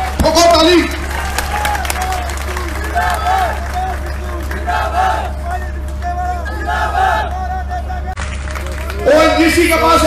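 A large crowd at a political rally in Kaithal cheers and claps, a loud, continuous roar of voices and applause under a steady low hum, swelling at the start and again at the end.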